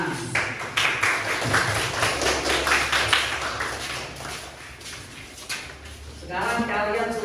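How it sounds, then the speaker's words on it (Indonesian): A class of students at an Islamic boarding school clapping hands in a rhythmic pattern, a dense crisp patter of claps under a speaking voice, with a low hum and voices returning near the end. "tepuk tangan"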